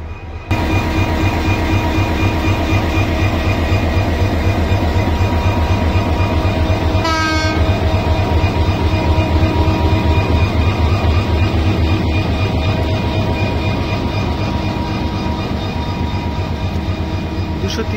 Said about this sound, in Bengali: 253 নং ট্রেনটা ঢুকছে, প্রবেশ করছে